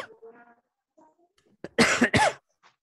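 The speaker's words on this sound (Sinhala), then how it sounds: "වියලි කැස්ස." Two loud, close dry coughs in quick succession, alone after a few faint background sounds.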